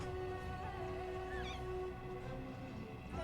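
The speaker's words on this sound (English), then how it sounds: "Kitty sighting." A cat in the video game The Forgotten City gives a short rising meow over steady background game music, fairly quiet and heard once.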